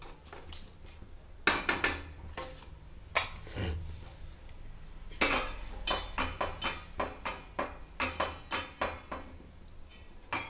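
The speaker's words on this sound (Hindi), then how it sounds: "बर्तन धोएंगे जो चूल्हा पर बनाए हैं" Pots and dishes used on a cooking stove being washed: clattering dishes and pots clink and knock repeatedly, with splashing and scrubbing sounds in uneven bursts, close by.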